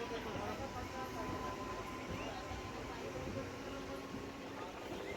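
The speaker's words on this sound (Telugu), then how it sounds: "సో ఆలేరు రైల్వే స్టేషన్ నుంచి అయితే ట్రైన్ మళ్ళీ స్టార్ట్ అయింది." A MEMU train on the Secunderabad to Warangal route pulls away again from Aler station, giving a continuous broad rumble and rattle at close range with no distinct horn.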